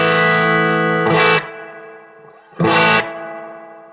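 A vintage Magnatone M9 guitar amplifier with a Strymon Flint reverb pedal rings out two loud, distorted strummed chords. Each chord blooms and then fades into a washy reverb tail.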